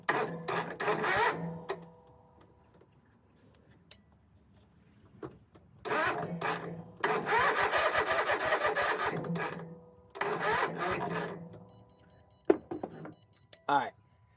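A Land Pride zero-turn mower engine, left sitting for several years, cranking over from a weak jump box in several long grinding bursts with quiet gaps between them, close by.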